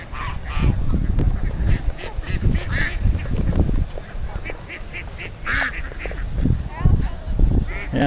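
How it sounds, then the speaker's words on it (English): Many ducks at an urban pond quack and honk in loud, overlapping bursts, some close and some farther off, with occasional human voices mixed in. "Oh, we got ducks."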